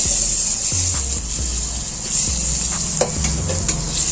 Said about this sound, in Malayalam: അപ്പോൾ നമുക്ക് പാന് ചൂടായി വരുമ്പോൾ ബട്ടർ ചേർക്കും. അൺസാൾട്ടഡ് ബട്ടറാട്ടോ ചേർക്കുന്നത്.